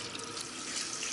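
Tap water runs steadily at a salon sink, rinsing booster treatment out of a client's thick frizzy hair; an even, close splashing hiss with no talk.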